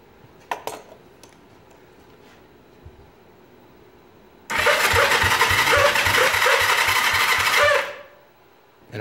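Old motorcycle engine, loud and close, cranks and catches after a few faint clicks and handling noises, then runs steadily at a fast idle for about three seconds before cutting off abruptly.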